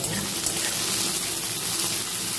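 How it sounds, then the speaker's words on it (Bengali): Onion, green chili and garlic frying in hot oil, a steady, even hiss of sizzling that runs unbroken at moderate loudness, close up, with no voices. "পেঁয়াজ লঙ্কা আর আমি রসুনটা ভালো করে ভেজে নেবো"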